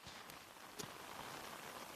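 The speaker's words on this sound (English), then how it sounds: "the quality and the quantity of the rain. It's excellent rain." Warm, steady rain falls outdoors at an agricultural sports event, a soft even hiss with a few sharper drop taps.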